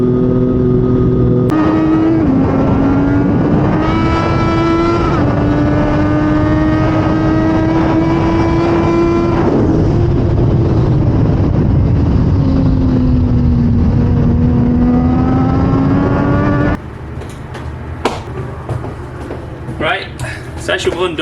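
Racing motorcycles during a BSB session at Brands Hatch on a cold day, with a loud, sustained engine whine rising and falling through the gears, then cutting to a quieter, rougher stretch of engine and ambient noise.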